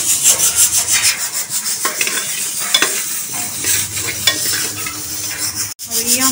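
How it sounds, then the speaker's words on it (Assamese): Broad beans stir-fried in a pan at home, a loud steady sizzle with repeated scraping strokes of a spatula, close and continuous with no talking. "উৰহি ভাজি বনাই আছোঁ এইপিনে"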